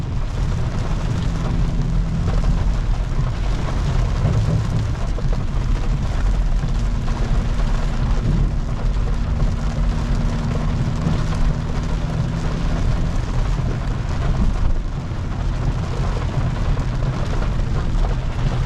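Heavy rain pounding a BMW M340i while driving through Miami streets, a steady dense roar of rainfall on the car with a low rumbling drone underneath, continuous and loud throughout with no talking.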